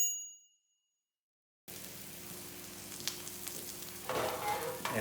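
Mushrooms and garlic sizzle in butter after a moment of silence, a loud, steady frying crackle punctuated by scraping and clanking as they are stirred.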